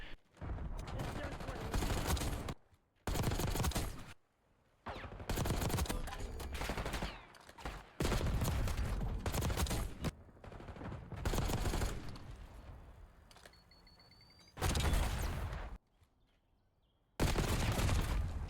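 Gunfire in a competitive online shooter game, bursts of rapid automatic fire lasting a second or two each, separated by brief gaps of near silence, with a faint high tone near the end.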